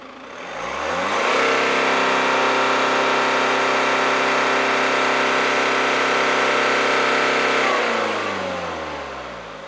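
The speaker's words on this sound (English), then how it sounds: "we will rev the car completely till the red line for 5 seconds." A Citroen C5 AirCross engine climbs from idle to a loud, sustained rev held at the red line for several seconds, then drops back toward idle, recorded close with no voices.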